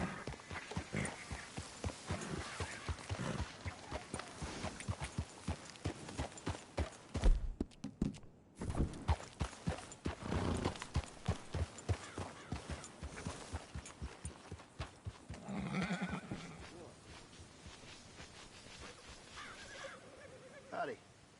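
Horse hooves clip-clop at a steady walking rhythm in the video game Red Dead Redemption 2, close and fairly loud, with a brief pause partway through and faint game ambience underneath.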